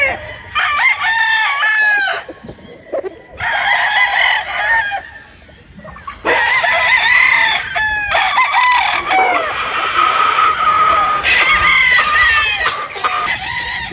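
A Gilmore gamefowl rooster crows loudly and nearby on a farm, giving several long crowing bursts separated by short pauses, with faint clucking between them.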